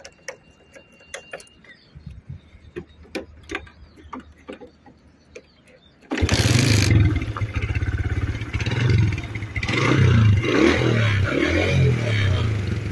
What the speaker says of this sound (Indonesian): ini suara mesinnya ya teman-teman